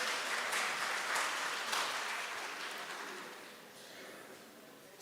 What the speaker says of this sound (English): Can we please give ourselves a round of applause?